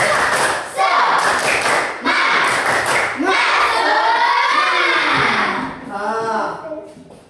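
Schoolchildren in a classroom doing a rhythmic spirit clap, loud bursts of clapping in quick patterned groups with chanting voices mixed in, ending in a final shout.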